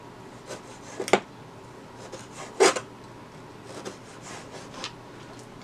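A knife cuts through tomatoes in a kitchen, giving a few sharp slicing taps against a board with softer scraping between, close and moderately quiet without speech.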